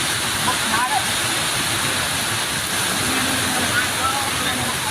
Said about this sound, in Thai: น้ำมาเยอะมายน้ำดันเข้าเลย